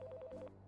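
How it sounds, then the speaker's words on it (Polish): A telephone in the video game Priest Simulator rings in a short, faint burst of repeated electronic beeps lasting well under a second. "Odbierz telefon."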